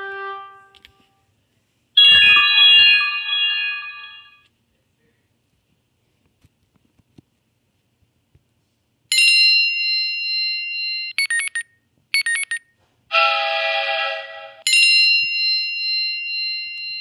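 Chiming test tones and ringtone-like dings ring out from the built-in speakers of an original iPad, loud and bright, in several bursts separated by silences, with no talking over them.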